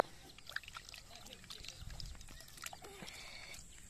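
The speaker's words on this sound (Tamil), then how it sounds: "மாங்காய் ரசத்துக்கு தேவையான தண்ணியை ஊற்றி மாங்காவை பிசைஞ்சிக்கலாம்." Water is poured onto pieces of mango in a bowl while making mango rasam, a faint, close trickling and sloshing in a quiet kitchen.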